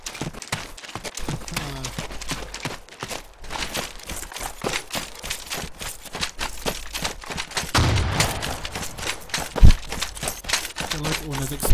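Video game battle with explosions and gunfire across the whole stretch: dense repeated bursts and thumps, a heavier blast near the end, all under steady talking.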